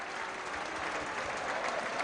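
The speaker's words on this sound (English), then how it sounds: "The crowd giving out." A football stadium crowd at a Burnley vs Norwich City Championship match applauds a goalkeeper's save: a brief, dense burst of clapping from a distant crowd, steady and unbroken.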